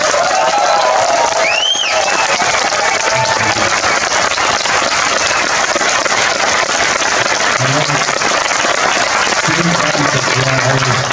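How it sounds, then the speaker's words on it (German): A cinema audience at UCI Bochum applauds the actor Terence Hill with dense, continuous clapping and some cheering, loud and close throughout, with a few voices breaking through. "Einen kräftigen Applaus für die Legende Terence Hill."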